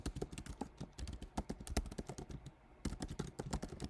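Rapid, steady keystrokes on a computer keyboard typing a note, close and clear, with a brief pause midway before the tapping resumes.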